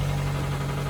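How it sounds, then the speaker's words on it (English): A steady mid-pitched engine idle from a 2011 GMC Sierra Z71 truck with about 200,000 miles and a slight tapping motor, droning close by with a constant hum and faint regular ticking, no talk. "Ooh, y'all hear that motor tapping?"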